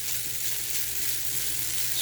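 Noodles browning in a pan with sesame oil, soy sauce and wild mushrooms, giving a dense, even hiss of frying that holds steady and close throughout with no voices.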